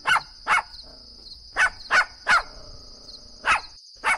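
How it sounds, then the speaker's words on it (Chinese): A dog barks fiercely in loud, sharp bursts, about eight barks in uneven clusters, close by over a steady high-pitched background tone. "听着狗子的狂吠声和有些熟悉的尖叫声"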